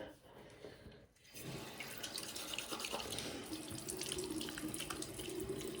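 Tap water runs steadily into a bathroom sink during face washing, briefly pausing near the start and then flowing continuously and close by, with splashing.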